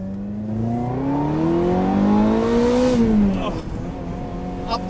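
A Ferrari 355's high-revving engine climbs and swells in pitch, loud and close, then eases off with a throttle blip near the end; no one speaks over it.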